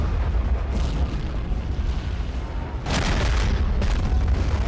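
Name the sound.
artillery firing in video game Army Men of War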